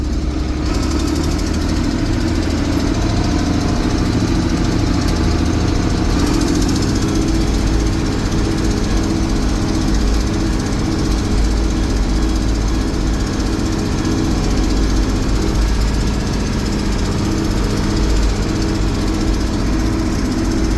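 A 1982 John Deere 8640 tractor, freshly fitted with a new clutch and transmission, runs steadily at idle, its diesel engine producing a loud, constant, rough rumble with a rattling knock throughout and no voices.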